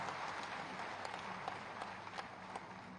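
A crowd applauds loudly and steadily to welcome the Chief Minister at a public development event in Saharanpur, with dense, continuous clapping throughout.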